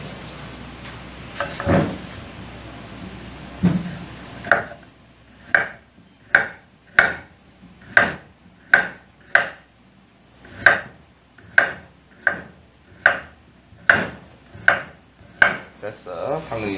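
A knife chops carrots on a cutting board in a steady run of about fifteen sharp, evenly spaced strikes, close and clear, after a few scattered knocks and clatters at the start.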